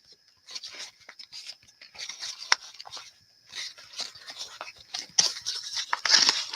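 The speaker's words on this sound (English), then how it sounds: "I'm just really crinkling this up" A paper craft tag being crinkled and crumpled by hand, giving a run of close, irregular crackling and rustling bursts that grow louder toward the end, with no talk.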